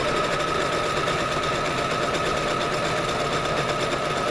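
A sewing machine stitches fabric in a straight line at close range, a continuous fast mechanical whir with a dense, even rhythm and no talking.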